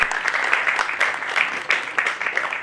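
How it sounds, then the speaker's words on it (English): An audience at a stage event gives a speaker a dense, steady round of applause, with many hands clapping continuously throughout. "A round of applause for our special speaker of the day."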